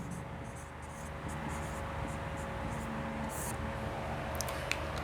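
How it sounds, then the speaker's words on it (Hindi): Pen scratches quietly across paper during a Class 9 physics lecture, a soft, steady hand-writing rustle with a few light taps over faint room hiss. "एक लाइन में यहाँ पर नोट करके लिखूँगा"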